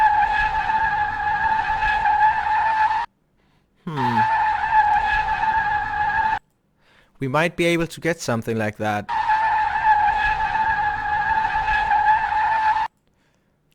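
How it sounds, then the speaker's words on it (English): Sustained tonal tire squeals from Assetto Corsa play in three long bursts separated by silences, with someone talking briefly in between. "Skid sounds we will probably take from other cars"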